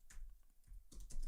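A computer keyboard typing an npm command: a brief run of quick, light keystrokes, close and fairly quiet, with no voices.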